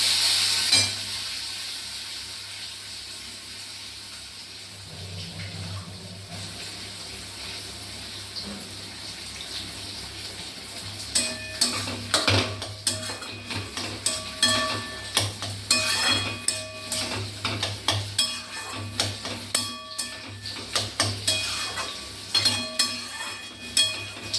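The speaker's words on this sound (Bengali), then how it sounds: "আমি এবারে আলুটাও একটু ভেজে, যেহেতু আলুটা সিদ্ধ, ভেজে নিলে ভালো লাগে খেতে।" Boiled potatoes fry in a pan with a steady hiss. Metal utensils clink and scrape against the pan more often in the second half, and no one speaks.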